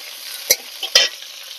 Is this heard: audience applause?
no